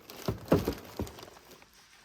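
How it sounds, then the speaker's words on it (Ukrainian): A unit is unclipped from a Bosch BCS71HYG2 cordless wet vacuum cleaner: several soft plastic clicks and knocks in quick succession, close and quiet, then fading to near silence. "Це блок цей легко від'єднується, ось є клавіша."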